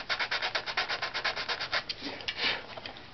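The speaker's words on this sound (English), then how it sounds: "I'm just going to sand it slightly." Close, quick back-and-forth rasping of a wooden plate being sanded by hand, about twenty brisk even strokes, then a few slower, longer rubs, with no talking.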